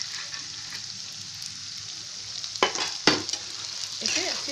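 Chickpeas are stirred into lightly browned fried onions in a pan: a soft, steady sizzle, then two or three louder scraping stirs near the end.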